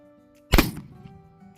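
A single sharp gunshot crack from an 1859 Sharps sporting rifle, loud and close, followed by a short fading rumble against a quiet outdoor background.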